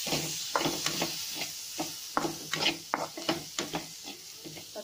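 Tomatoes go into hot oil spiced with turmeric, ground masala and black pepper powder, sizzling while a spoon stirs and scrapes the pan in quick, uneven strokes close by.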